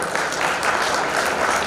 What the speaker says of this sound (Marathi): मी सर्वांना माझ्या वतीने विनंती करतो की जोरदार टाळ्या वाजवायच्या